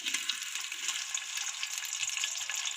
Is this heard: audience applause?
no